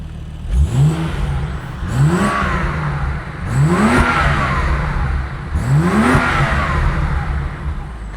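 Car engine with a decat downpipe exhaust and no valve, revved four times in a row, each blip rising sharply and dropping back, loud and close with a raspy tone.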